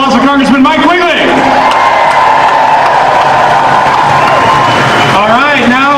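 An outdoor rally crowd gives a Congressman a loud round of applause and cheering. The clapping and shouting swell in the middle, and an amplified voice speaks over them at the start and end.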